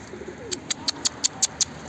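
A series of about seven short, evenly spaced bird calls repeating at a steady rhythm over faint background noise, moderately close.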